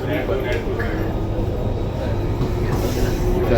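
Steady low rumble of a Mumbai metro train running from Andheri to Ghatkopar, a continuous rolling drone with faint rattles throughout.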